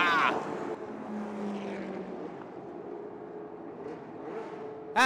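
A Shelby GT350 and a Ferrari 275 race side by side to the finish of a Group 3 race, their engines a loud, steady roar that swells briefly at the start and again at the very end.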